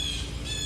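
A single harsh, rasping squawk from a blue jay scolding a hawk, brief and close, set against a steady outdoor hum.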